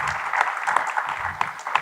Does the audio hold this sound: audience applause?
yes